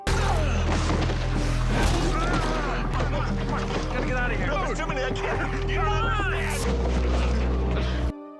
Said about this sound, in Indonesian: api yang keluar dari mobil Murphy menyambar truk tangki hingga truk tangki meledak